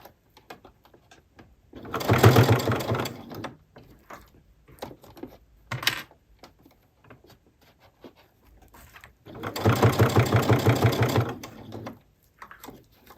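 A sewing machine stitches a quilted potholder in two bursts of rapid, even mechanical clatter, each lasting about two seconds, close and moderately loud. Quiet handling noises fall between the bursts.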